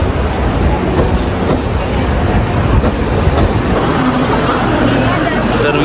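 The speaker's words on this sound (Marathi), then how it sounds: "हे बघा 2 इंदोर एक्सप्रेस आले." Indore Express pulling into a railway platform, a loud steady rumble of rolling coaches with faint wheel squeal and clatter, close and continuous, with people talking over it.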